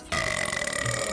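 A loud, drawn-out burp rumbles for about a second, abrupt at the start and steady throughout, with no talking over it.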